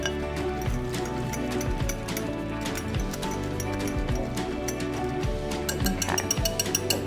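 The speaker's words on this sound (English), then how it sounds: "I like to just use a whisk for this part. Just mix it together really well." A whisk clinks steadily against a bowl while mixing a melted chocolate cake batter, producing a rapid, continuous metallic rattling up close, with no voices.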